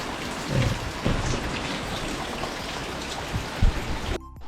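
Heavy rain pours down in a dense, steady hiss, with a few dull thumps and low rumbles mixed in before it cuts off abruptly.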